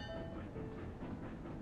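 Trains run in the video game Railroad Corporation 2, a soft continuous rumble of rolling wheels and rail clatter, faint and steady with no voices.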